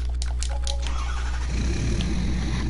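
A truck engine in the PS4 game Farming Simulator 19 hums steadily and close up, its low rumble thickening and growing rougher about halfway through as the revs rise.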